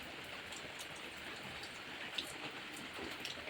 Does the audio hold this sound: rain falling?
yes